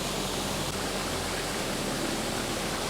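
Campsie Glen waterfall pours in a dense, steady hiss of rushing water, loud and close, with a faint low rumble underneath.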